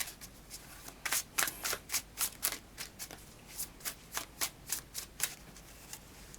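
Riffle-shuffling of a tarot deck: a steady series of quick, crisp card riffles and flutters, close and fairly quiet, with no talking.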